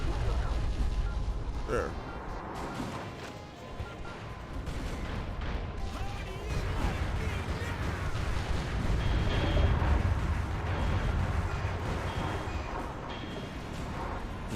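Sustained video game gunfire with heavy, continuous shooting and booming impacts over the whole stretch, while a player talks over the din.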